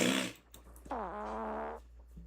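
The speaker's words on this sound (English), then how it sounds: "He makes a loud farting noise with his mouth." A loud mouth-made farting noise in a video game, a buzzy blaring raspberry lasting about a second after a brief breathy sound.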